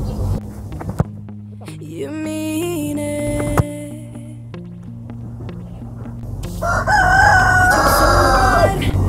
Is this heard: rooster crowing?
yes